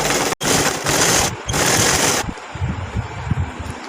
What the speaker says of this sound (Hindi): अब हम इसके ऊपर सिलाई करेंगे